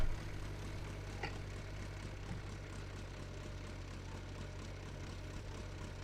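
Ursus C-360 tractor engine in Farming Simulator 19, straining to pull three trailers loaded with bales, droning steadily with a low idling hum throughout, moderately quiet and with no voices.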